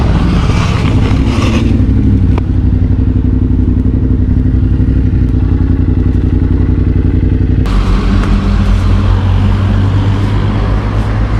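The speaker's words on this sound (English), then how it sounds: "While riding in the group ride, rider in the front slides out." Motorcycles on a group ride roar loudly and continuously with steady engine rumble and wind buffeting, a shift in engine tone partway through and some clatter as the front rider slides out.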